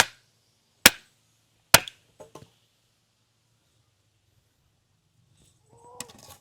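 Nails are hammered into hard, tough wood: two loud, sharp, isolated strikes about a second apart, then a few quicker, lighter taps, a long quiet gap and a faint final knock with slight clatter.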